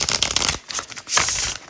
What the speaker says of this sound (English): I'm just going to shuffle one more time.